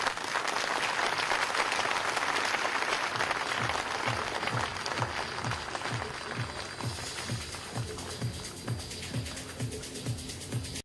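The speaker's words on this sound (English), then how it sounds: "applaud them for their achievement" Sustained applause from a large audience at a Businessman of the Year awards ceremony, dense steady clapping that continues throughout and fades slightly toward the end.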